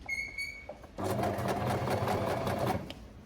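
A sewing machine stitches a bag in reverse, whirring in a quick, steady run after a short high beep, close and clear without talk.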